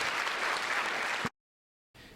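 An audience at a university symposium applauds in a brief, even round that cuts off abruptly, then resumes faintly after a short silence.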